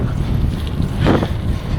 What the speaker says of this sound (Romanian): Dar bate rău vântul.